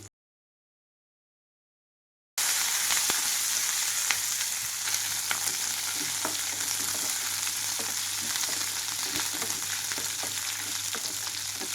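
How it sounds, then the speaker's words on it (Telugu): Curry leaves and cumin frying in a pan over a low flame for curry leaf chutney: a steady, dense crackling sizzle that starts after a short silence, with faint stirring taps along the way and no speech. "లో ఫ్లేమ్లోకి టర్న్ చేసి వీటిని కొద్దిగా వేయించుకుంటున్నాను"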